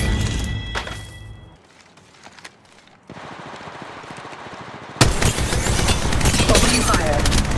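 Automatic weapon fire in Apex Legends Mobile: an opening burst, a quieter lull with faint rattling, then loud continuous firing resuming near the end, with game voice lines over it.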